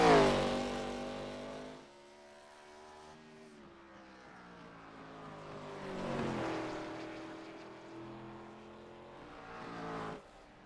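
Race cars running laps at Indianapolis Raceway Park in an iRacing warm-up session, engines rising and falling in pitch as they rev and pass, with loud surges near the start, middle and end.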